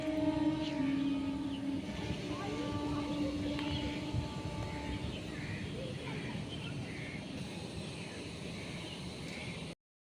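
A train rolls past near a house under a cloudy sky, a continuous rumble with tonal horn-like lines early on, moderately distant and steady until it cuts off.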